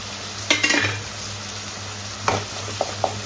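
Dried fish and tomato sautéing in a pan, a soft sizzle under a few sharp spoon scrapes and clinks against the pan, close up with no talking.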